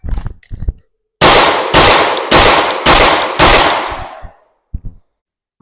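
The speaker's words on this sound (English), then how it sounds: "I want no doubt that all 5 rounds are going in that A box for my first 5 rounds" Pistol shots on a live-fire training range: five loud, sharp reports spaced about half a second apart, with a few quieter clicks and handling knocks before and after.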